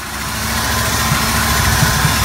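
A 1978 Ford van engine idles steadily after sitting unused for 12 years, a continuous close, loud low rumble with slight unevenness and vibration throughout.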